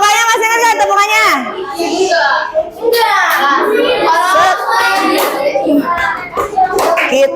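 A class of sixth-grade schoolchildren performing a rhythmic clapping chant, their voices singing loudly in unison over sharp, patterned hand claps, close and lively, with a brief pause partway through.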